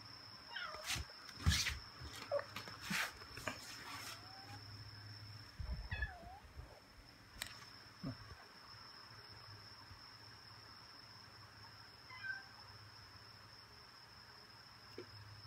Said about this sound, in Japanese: にゃーことカエル遊んでます。